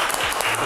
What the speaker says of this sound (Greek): Είναι περίπου 400 άτομα που βλέπετε εδώ πέρα και όλοι χειροκροτήσανε μαζί για τον Κωνσταντίνο